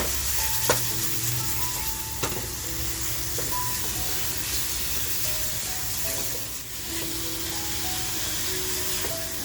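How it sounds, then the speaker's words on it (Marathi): Marinated prawns fry in a pan, a steady close sizzle with occasional stirring knocks and scrapes, no talking. "जी कोळंबी आपण मॅरिनेट करून ठेवली आहे ना, ती कोळंबी टाकून मस्त अशी फ्राय करून घेऊया"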